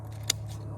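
Pruning shears cut a branch from a peach tree in early spring, making one sharp, brief snip over a low background hum.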